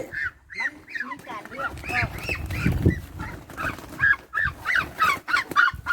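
Ducks kept by a Thai villager honk and quack in short, repeated bursts close by as they are chased, with a dog-like yap mixed in and people talking over the commotion.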